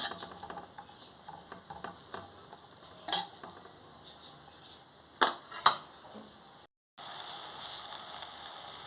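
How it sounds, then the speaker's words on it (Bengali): Onions stir-frying in a little oil make a steady light sizzle, broken by a few sharp scraping clatters of the stirring utensil and a short dropout near the end, close up with no talking. "একদম অল্প তেল দিয়েছি জাস্ট নাড়ানাড়ি করে নেবো একটুখানি"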